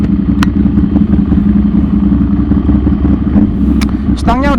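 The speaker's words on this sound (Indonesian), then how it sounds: "Suaranya khas Ducati, mesin L-Twin 800cc 2 silinder." A Ducati Monster 796 800cc L-twin motorcycle engine runs close by with a throaty, rumbling idle and pulsing revs; a voice speaks over it near the end.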